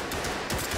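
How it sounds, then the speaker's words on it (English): Rapid gunfire in the tactical shooter game Ready Or Not, shot through a window, a loud close burst of several cracks packed into under a second. "He just shot through the window"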